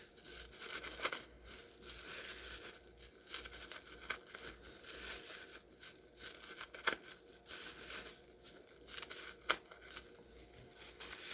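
Scissors cut a plastic bag into long plarn strips, making close, quiet crinkling and tearing sounds in an uneven, repeated rhythm.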